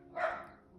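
A dog barks once, a short, fairly loud yelp close to the microphone in an indoor crafting room, with quiet room tone before and after.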